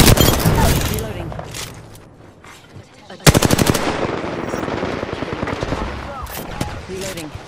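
Gunfire in Apex Legends: a loud opening stretch of shots, a brief lull, then a sharp, rapid automatic burst followed by continued scattered firing and game effects, with a voice speaking over the action.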